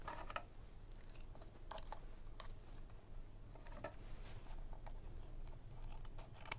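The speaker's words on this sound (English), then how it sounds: "Slightly thinner scissors work a bit better for that." Faint, irregular snipping clicks of thin scissors cutting paper over a steady low background hum, close by and quiet, with no talking.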